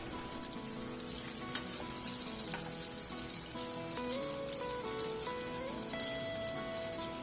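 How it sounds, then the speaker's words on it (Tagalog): Oil sizzles and crackles steadily as breaded chicken wings fry, with a few sharp pops and faint tonal hum underneath, no voices. "Prituhin lang natin ang mga natitirang breaded chicken wings."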